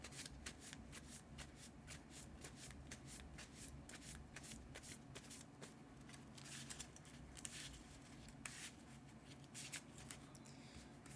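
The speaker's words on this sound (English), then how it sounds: "Shuffle." A deck of cards from a Legendary Marvel deckbuilding game being shuffled by hand, repeated crisp riffling bursts in quick succession, close and quiet with no talking.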